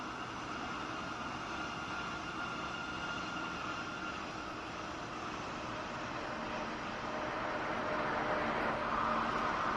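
A passenger train pulls into a station in the railway game Train Sim World 3, a steady rumbling roar of wheels and motors that swells slightly toward the end, with no talking.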